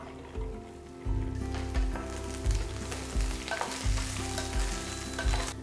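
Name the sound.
okra (lady's finger) frying in oil in a pan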